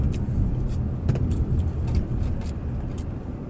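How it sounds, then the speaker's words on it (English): Steady road and engine noise from inside a Dodge Challenger cruising on a highway with its driver-assist steering engaged, a continuous low rumble with faint clicks and rattles on top and no talking. "The car is driving by itself"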